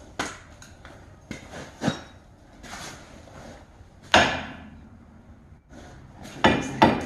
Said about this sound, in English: I have to smack these to get them to release from the knuckle.